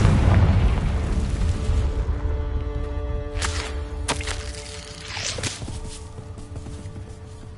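A booming Confringo fire-spell explosion from Hogwarts Legacy opens loud and rumbling, decaying over several seconds while a few sharp bursts and crackles follow.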